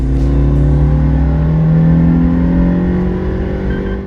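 A Suzuki Jimny with its stock air filter and traction control on accelerates hard from 0 to 100 km/h, the engine note rising steadily and loud, close up, with no talking.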